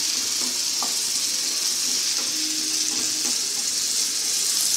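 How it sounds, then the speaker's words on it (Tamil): Onions sauteing in a pan for samosa filling give a steady, faint hiss and sizzle with a few soft stirring knocks, heard alone with no talking. "வெங்காயம் நல்லா வதங்கட்டும்."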